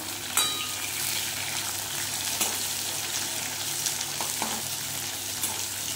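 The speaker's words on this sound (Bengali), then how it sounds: "এইবারে এই পটলটা আমি ততক্ষণ পর্যন্ত ভাজবো যতক্ষণটা লাল লাল না হয়" Pointed gourd (potol) fries in oil in a pan for a Bengali curry, giving a steady, dense sizzle throughout with a few soft stirring scrapes and no talking.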